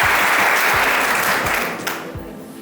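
A college audience at KRB Singh Mahavidyalaya bursts into loud, dense applause that holds steady, then thins and fades toward the end.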